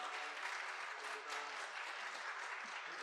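A church congregation claps to welcome the pastor at a revival service, dense, even applause from many hands, steady and fairly close throughout.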